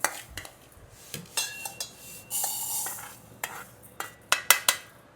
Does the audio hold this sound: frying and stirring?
yes